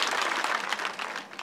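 Congregation clapping at a church healing service after a testimony, a dense burst of many hands applauding together, close and lively, fading slightly near the end.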